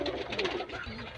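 Indian breed pigeons, a Kaldumiya pair, coo briefly at close range, a short low warbling call over faint background noise.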